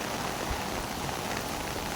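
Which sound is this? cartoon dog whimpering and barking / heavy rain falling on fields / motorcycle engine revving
heavy rain falling on fields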